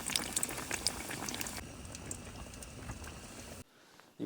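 Potato vada fry in very hot oil at a high-altitude campsite with a steady, dense bubbling hiss that stays close throughout, then drops almost to silence briefly before resuming.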